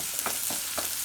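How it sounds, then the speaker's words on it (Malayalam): Sliced onion sautés in a pot over the heat, giving a steady close sizzle with a few soft stirring scrapes and no talk. "ഞാൻ സവോള ഇട്ടിട്ട് നല്ലോണം വഴറ്റട്ടെ."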